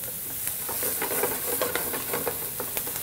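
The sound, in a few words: diced Yukon Gold potato sizzling in a pan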